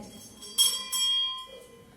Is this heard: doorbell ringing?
yes